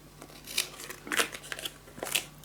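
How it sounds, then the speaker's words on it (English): Scissors snip a small triangle out of folded paper for a scrapbook mini album, a few quick crisp cuts in close succession, near and clear with no talking. "to cut a little triangle"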